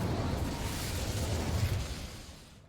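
A rushing, crackling burst of flame from the Incendio fire spell cast in Hogwarts Legacy, loud at first and tapering away over a couple of seconds.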